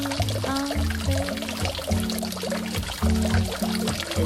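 Water pours and splashes into an old stone cistern, a continuous, echoing flow with gurgling and trickling that stays steady and fairly loud throughout.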